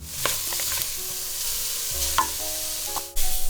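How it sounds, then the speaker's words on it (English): Pork belly pieces searing in hot oil in a wok give a steady, close sizzle, with a few light scrapes and clinks as they are moved and a sudden louder burst of spatter near the end. "We're just gonna sear them on both sides and let the fat render out."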